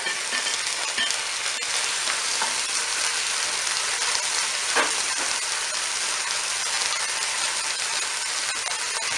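A turkey leg browns in a Cookeo multicooker, a steady close sizzle and crackle of frying fat running evenly throughout, with a faint stir or clink partway through.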